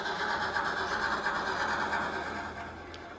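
A DCC sound decoder in a model steam locomotive produces a quiet, continuous mechanical chuffing hiss, steady and close, fading slightly toward the end.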